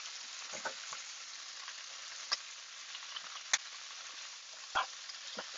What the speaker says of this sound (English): I'm going to toss it to mix it with the